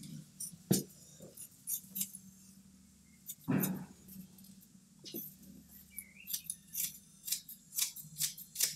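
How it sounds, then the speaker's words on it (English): Scissors snip the bristles of a brush during wood furniture restoration, a string of short, crisp cuts near the mic, clustered in quick bursts with pauses between. "I'm just going to trim the hairs off of it, just a little bit"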